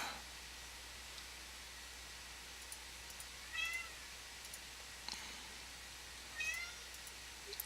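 A cat meows twice, faint and somewhat distant, with the short calls spaced a few seconds apart over a quiet hiss and scattered small clicks.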